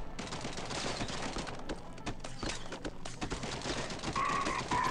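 Rapid bursts of gunfire from shooting enemies in the game Swamp Attack 2 crackle in dense, overlapping volleys, loud and continuous, with a brief tonal game effect near the end.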